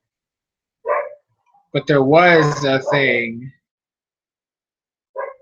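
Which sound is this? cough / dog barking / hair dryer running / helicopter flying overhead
dog barking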